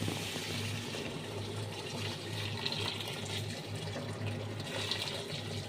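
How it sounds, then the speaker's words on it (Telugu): Hot water pours in a steady, soft stream into a pot of chicken, with a low continuous hum underneath and no talking. "ముందుగా మనం వేడి చేసి పెట్టుకున్న హాట్ వాటర్ అయితే అందులో పోయాలి"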